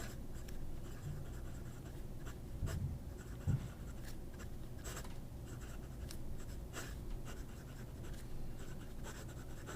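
A Pelikan M800 fountain pen with a broad Schmidt nib and generous ink flow writes on paper: a steady, faint, close scratching and gliding with small pauses between strokes in a quiet room.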